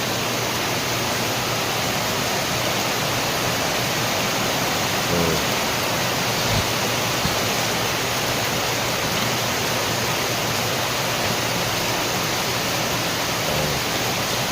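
Floodwater rushes through heavy rain and wind in the Philippines, a constant loud broadband roar with no let-up.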